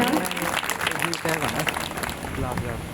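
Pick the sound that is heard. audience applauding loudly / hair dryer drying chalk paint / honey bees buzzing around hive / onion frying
audience applauding loudly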